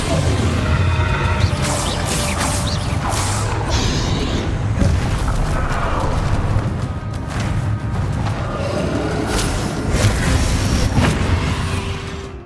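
Spell blasts and explosions from the Hogwarts Legacy video game on PC come as a dense, loud barrage of booms, crashes, thwacks and whooshes, one after another without pause.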